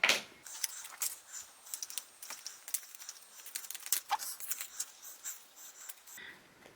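Paper prompt cards being shuffled by hand, a quiet series of close, rapid flicks and soft slaps with no voice over them.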